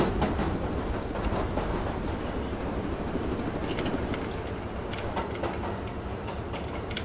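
A steady rumbling cargo train in Roblox Jailbreak rolls along continuously, with light rhythmic clicking and clacking over the top; no voices.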